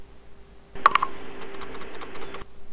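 A computer keyboard clicks as a few keys are pressed in a short burst, then a faint hum of playback follows; the taps are close and quiet in an otherwise still room.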